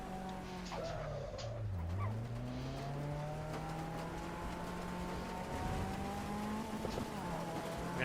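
A race car in a driving video game, steady engine drone with rising and falling pitch as it shifts and corners, faint tire noise, fairly quiet and continuous without talk.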